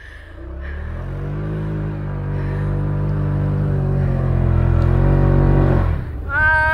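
A vehicle engine drives through fresh snow on a snowy outing. The steady, loud engine hum builds and slowly rises in pitch, then drops off near the end, with a short burst of other sound after it.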